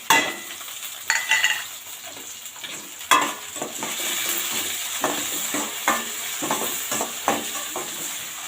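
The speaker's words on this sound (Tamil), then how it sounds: "தக்காளி லைட்டாக வதங்கட்டும்." Tomato and onion sizzle and fry in a pan, with repeated stirring scrapes and light clinks throughout, close and steady, no talking.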